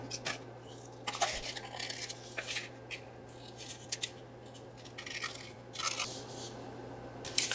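Scissors snipping through paper pad and book-page paper at an angle for junk journal ephemera, giving several short, crisp cuts scattered across the stretch at close range with no talking.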